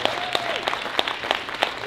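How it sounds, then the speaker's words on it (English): Applause from a convention panel audience, dense and steady with sharp individual claps standing out, fairly close and filling the short moment alone. "Big round of applause for James and Eric for putting this on for us, too."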